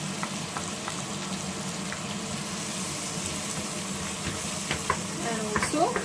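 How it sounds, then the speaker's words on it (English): Chopped onion sizzles steadily in melted butter in a pan, a continuous crackling fry with occasional stirring scrapes and small utensil clicks, close and moderately loud with no talking. "let's add maybe 1 tablespoon of butter, and to this, 1 onion chopped"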